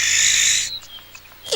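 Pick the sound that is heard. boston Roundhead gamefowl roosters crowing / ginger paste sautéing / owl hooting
owl hooting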